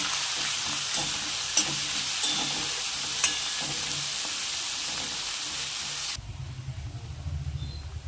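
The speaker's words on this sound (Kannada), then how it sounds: "ಈರುಳ್ಳಿ, ಹಸಿಮೆಣಸಿನಕಾಯಿ 2 ಸೇರಿಸ್ಕೊಂಡಿದ್ದೀನಿ. ಇದನ್ನು ಚೆನ್ನಾಗಿ ಒಂಬಣ್ಣ ಬರೋವರೆಗೂ ಫ್ರೈ ಮಾಡ್ಕೊಳ್ಳೋಣ." Onions and two green chillies sizzle briskly in oil for a puffed-rice mandakki oggarane, with a constant hiss and occasional spoon clicks before the sound shifts to a lower, rumbling fry near the end.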